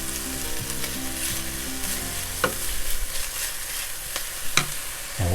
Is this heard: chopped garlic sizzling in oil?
yes